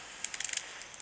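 A battery-powered 2-gallon garden sprayer head being twisted, giving a quick run of about half a dozen small plastic ratcheting clicks, then a couple of fainter clicks after a pause, close up and with no talking.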